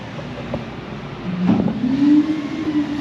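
A truck-and-transfer dump truck's diesel engine idles, then revs up midway and holds a steady, rising drone at close range, with no talking.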